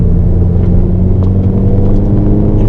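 A car engine drones loud and close under full throttle on a race circuit, a steady heavy rumble that holds level throughout.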